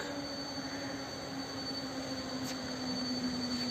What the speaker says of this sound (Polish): I wjeżdża Intercity Warta. Poznania Głównego do tej Warszawy Gdańskiej, gdzie kończy bieg.